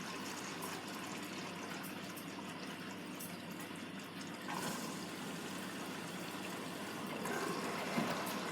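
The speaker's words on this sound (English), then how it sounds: "the water is just starting to come in" Blomberg washing machine filling with water for its final rinse, a steady rushing hiss of inflowing water that continues evenly and grows slightly louder near the end, with no talking.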